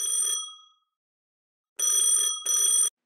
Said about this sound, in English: As my phone rang in my pocket